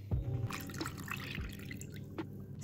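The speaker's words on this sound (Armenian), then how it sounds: "Այստեղ լցնում ենք երկու գդալ օսլյամ եգիպտացորենի և երկու բաժակ ջուր։" Water poured from a cup into two spoonfuls of corn starch in a bowl, a close, soft trickle and splash with a few drips, no voices.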